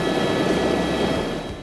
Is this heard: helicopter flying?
yes